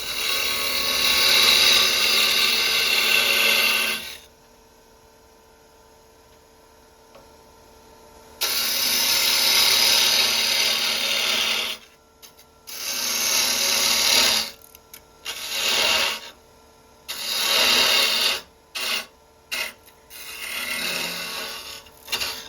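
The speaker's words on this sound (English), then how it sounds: "it's a lot easier and faster to use a Beading tool in this situation. So I'm going 2200 RPM, and I just push straight in" A wood lathe spinning at 2200 RPM while a beading tool is pushed into the turning wood, loud rasping cuts in several bursts, a long one, then shorter intermittent passes separated by near silence.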